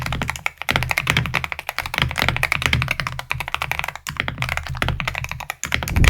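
Rapid, continuous keystrokes on a Wooting mechanical keyboard, crisp clacks in a steady flurry with brief pauses, close and fairly loud, no talking.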